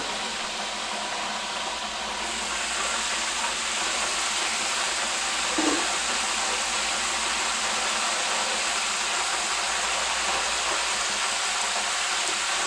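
A cooking pot bubbling hard while chicken wings and fries are made, a dense, loud, continuous hiss and roar that stays steady throughout.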